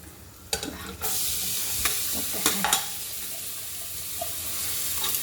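Grated cabbage, carrot, green chilli and ginger sautéing in a pan, a steady hiss of frying broken by several sharp scrapes and knocks of a spoon stirring against the metal, close and continuous with no talk.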